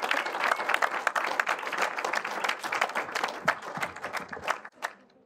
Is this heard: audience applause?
yes